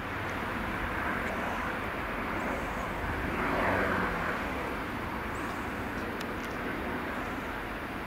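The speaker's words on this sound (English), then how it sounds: "Helicopter, I think, see." Helicopter passing overhead during a wait by the railway near Hereford, a faint, steady distant engine drone that swells slightly midway and then fades back, with no talk over it.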